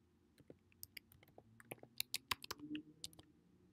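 Fingers tap out a password on a computer keyboard, a quick run of irregular, close, crisp key clicks that quicken toward the end.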